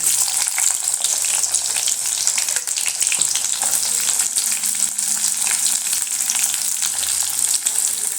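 Onions dropped into hot oil in a pan fry with a loud, continuous close-up hiss and crackle, steady throughout with a few faint stirring knocks and no talk.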